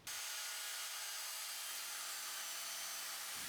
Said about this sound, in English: So I've used the Evolution track saw to cut 2 pieces of plywood at 600mm by 900mm